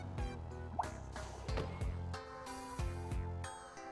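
Water drips steadily in Fantasian Neo Dimension, a series of close, clear plinks and bloops at an irregular rhythm, each drop ringing briefly in a quiet space with no talking.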